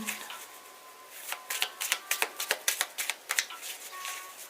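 Tarot cards being shuffled by hand, a run of crisp, rapid riffling snaps that builds in the middle, fairly quiet and close, with no talking over it.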